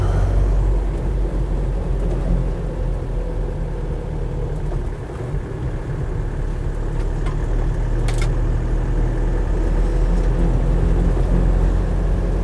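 A Land Rover 90 2.5 TD pickup drives in high gear, its diesel engine and road noise a steady, loud low rumble throughout with no speech.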